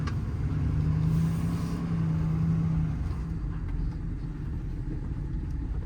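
A 2018 Ford F750 extended-cab diesel truck with a crane body rumbles deeply through a turn, its engine note holding steady and then easing, close and loud with no talking.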